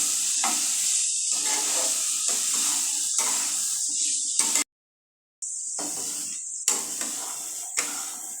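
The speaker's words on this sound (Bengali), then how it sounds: "একটু কষাতে থাকি" Kabuli chickpea curry sizzling and hissing as it is sautéed in a pan, a steady frying hiss with occasional stirring scrapes, broken by a brief silent gap midway.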